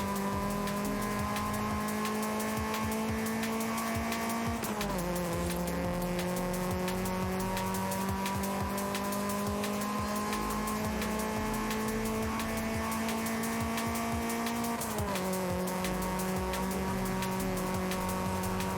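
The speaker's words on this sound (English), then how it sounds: "You can really hear the VTEC kind of." Engine of a car in Forza Horizon 5, a game vehicle with VTEC, droning steadily at high revs with smooth pitch drops at gear shifts, loud and continuous with no talk over it.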